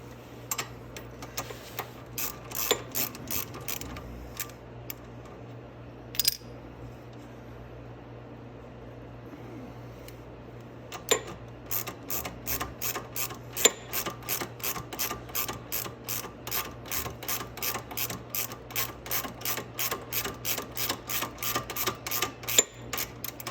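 Control arm bolts on a Venom 125cc Grizzly ATV tightened with a ratchet, giving scattered clicks at first, then a long steady run of rapid, evenly spaced ratcheting close up.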